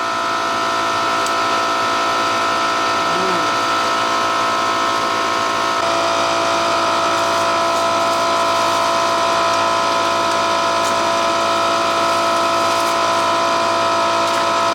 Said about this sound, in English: Freeze dryer finished, so I think both the cucumber chips and the beetroot turned out really well.